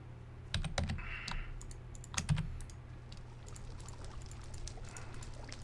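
A bucket of water is emptied in Minecraft, giving a short, soft splashing pour among busy, close keyboard and mouse clicks, with no talking.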